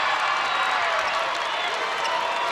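A crowd at a high school boys basketball game cheers and applauds after a made free throw, a dense, steady roar of clapping and voices that fills the gym with no break.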